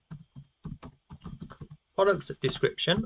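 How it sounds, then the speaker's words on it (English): Typing on a computer keyboard, a run of quick light key clicks in an uneven rhythm, close and fairly quiet, followed by someone talking over the last second. "I'm going to type in product description"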